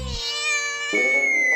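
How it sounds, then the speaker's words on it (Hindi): A cat gives a drawn-out, high meow that rises and then bends into a second note, close and clear with no one talking. "कुछ नहीं, बिल्ली की आवाज थी"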